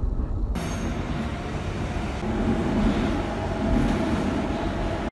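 A subway metro train rolling along, a steady loud rumble of wheels and carriage noise with faint squeal, continuous for several seconds before cutting off abruptly.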